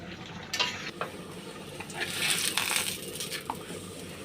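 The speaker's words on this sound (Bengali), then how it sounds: "হালকা তেল দিয়ে এটাকে আমি এবার ভেজে নিচ্ছি।" Sweet potato paratha frying in light oil in a pan, a soft continuous sizzle with several brief clinks and scrapes of a utensil against the pan, close and moderately quiet, no voices.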